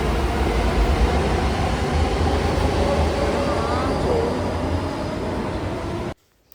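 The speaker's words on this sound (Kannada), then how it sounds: "ಆಪೋಸಿಟ್ ಮೆಟ್ರೋ ಹೋಗ್ತಿತ್ತು" A metro train rumbles past close by, a loud, steady roar of wheels and motors that holds for about six seconds before cutting off abruptly.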